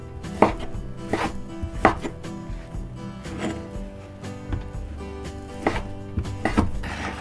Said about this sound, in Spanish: vamos ahora a cortar el chicharrón para que ya todo esté listo